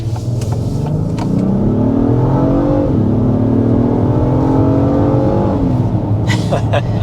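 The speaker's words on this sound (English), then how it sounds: "Let's do a sport mode acceleration here." The 355 hp V6 of a 2025 Acura MDX Type S revs hard in sport mode as it accelerates uphill, the tone climbing steadily through gear changes, loud and close throughout.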